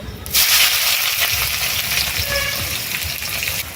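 Chopped onion with a little salt sizzles in hot mustard oil in a heated wok, seasoned with mustard seeds and five-spice; a loud, steady frying hiss with faint stirring runs throughout, no voices.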